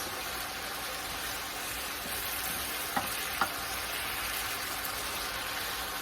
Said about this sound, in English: this is cooking down good. What I want to do is cook it down until this broth is gone.